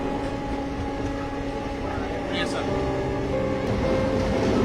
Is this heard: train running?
yes